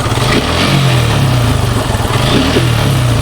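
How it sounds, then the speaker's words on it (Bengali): A hot motorcycle engine that has idled for about half an hour revs loudly and continuously at close range as the throttle is held open. No talking is heard over the drone. "তো আমি আরেকটু পিক আপ দিই, এক্সেলেটারটা যদি দিই আপনারা তাহলে বুঝতে পারবেন"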